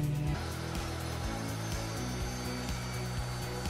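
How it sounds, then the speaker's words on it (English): A Surf Prep sander runs steadily on the rounded corners of a china cabinet, giving a continuous loud whirring drone with shifting tones as it moves over the wood, and no talking. "So nice having that surf prep for these rounded corners."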